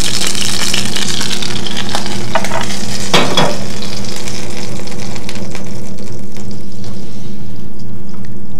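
Pieces of lamb liver fry in a hot pan with a loud, steady sizzle and crackle, stirred occasionally, with a brief sharper burst partway through before the frying settles.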